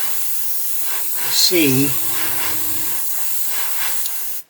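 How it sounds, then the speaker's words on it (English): An aerosol can sprays a coating onto a plastic Airfix 1/72 Lancaster B.III Dambuster model kit, giving a close, steady hiss of a few seconds that cuts off sharply, while someone speaks briefly at the start. "and then I spray it,"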